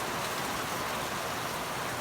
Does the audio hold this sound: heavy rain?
yes